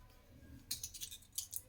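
Old kitchen scissors, long unsharpened, snip through empty medicine wrapper packets with a run of crisp, close cuts arriving in quick irregular bursts after a quiet opening.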